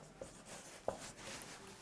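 Pen or chalk writing out an exam question during a chemistry lesson on molecular orbital theory, a faint scratchy scribbling with a couple of brief sharper taps, steady and close, with no talking.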